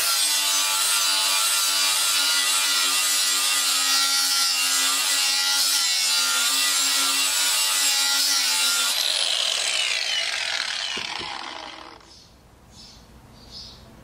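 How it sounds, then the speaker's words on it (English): A hand grinder sharpens a Lawn Boy mower blade, a loud continuous high grinding rasp for about eleven seconds, then it spins down and fades to near quiet. "by using this hand grinder, this blade doesn't get real hot either when you're sharpening it"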